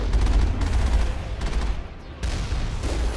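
Heavy gunfire from the sci-fi shooter Mass Effect, dense overlapping bursts and booms that roar continuously with brief dips, loud and close with no talking.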